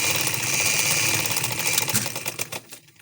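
A sewing machine stitches a frock with a close, steady whirring run. The whir then slows into a few separate needle clicks and stops.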